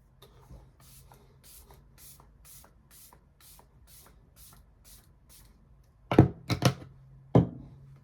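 A quick series of about ten soft, rhythmic spritzes from a facial serum mist spray bottle, followed by a few louder close-up bumps and handling noises.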